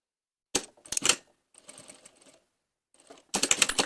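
A sewing machine stitching the welt on a waistcoat pocket runs in short, quiet bursts of rapid mechanical clatter, with pauses between the brief runs.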